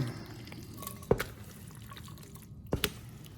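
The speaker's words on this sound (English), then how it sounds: "now I'm going to dump this in this iron skillet" A beanie weenie casserole mixture is dumped into an iron skillet, heard as two soft wet plops about a second and a half apart against quiet background.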